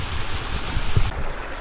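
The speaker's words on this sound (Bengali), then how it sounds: "এটা কিন্তু সত্যি একটা ন্যাচারাল ওয়াটারফল থেকে" A natural waterfall pouring onto rocks gives a steady, dense rush of water, close and loud, continuous for the whole stretch.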